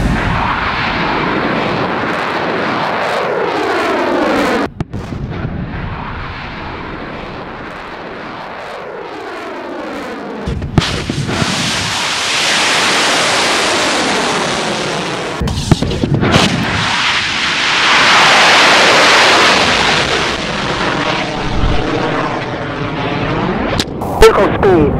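A rocket engine lights and the Exos Aerospace SARGE launch vehicle lifts off, a sustained loud roar that swells and rumbles for over twenty seconds with sharp cracks and shifting tones, while people talk over it.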